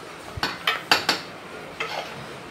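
Mutton pieces sautéed in oil and stirred in a pan for Maharashtra-style spicy mutton rassa, heard as a few sharp clinks and scrapes of a utensil against the pan over a faint background, with no talking.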